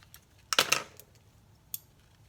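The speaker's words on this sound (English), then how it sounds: "I'm going to take my scissors," Scissors snip through ribbon while a cheer bow is trimmed to length, a quick cluster of crisp close cuts followed by a single fainter snip, in an otherwise quiet room.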